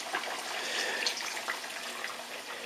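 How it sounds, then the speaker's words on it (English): Water streams and splashes into hot lard in a high-walled pot, giving a steady bright hiss and trickle with faint crackles, moderately quiet, with no voices. "I'm going to add water to bring this lard temperature down to about 220, 230 or so."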